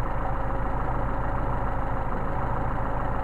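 A Mercedes 190SL engine idling on Solex carburetors, a steady even low throb with a regular pulsing rhythm, close and constant throughout with no voices.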